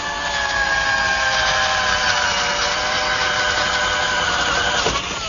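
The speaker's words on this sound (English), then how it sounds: "So I'm going to drill a hole first." A power drill whines steadily at a constant pitch for several seconds, boring a hole through a wooden panel, a continuous mechanical buzz with no talking.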